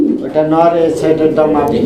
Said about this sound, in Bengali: এটা হচ্ছে দামাসিন কবুতরের একটা জোড়া